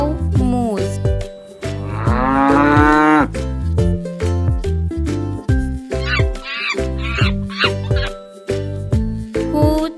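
A cow moos in long, loud, drawn-out lowing calls that repeat across the stretch, with no other sounds around them.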